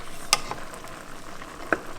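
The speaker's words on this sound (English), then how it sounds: "Let me give this a stir. Starting to bubble. So we're gonna give it a stir." A bubbling dish simmers quietly in a pan as a spoon stirs it, with two sharp clinks of the utensil against the pan standing out over the soft, steady background.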